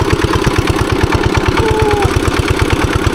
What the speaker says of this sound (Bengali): আমি এখন নৌকা চালাবো।